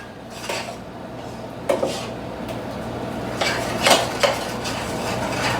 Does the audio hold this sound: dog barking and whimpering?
no